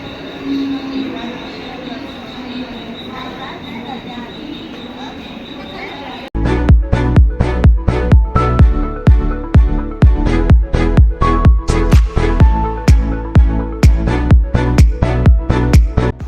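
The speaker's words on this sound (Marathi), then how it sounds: "गाईज आमची ट्रेन आलेली आहे" Train pulling into a station, starting with quiet platform ambience, then a loud, close run of rhythmic wheel clacks beating steadily over the rails until the end.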